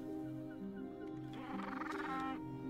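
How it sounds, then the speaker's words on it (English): Long penguin call in The Pale Beyond, a faint drawn-out honking squawk over a quiet background hum, lasting about a second. "You hear a long penguin call."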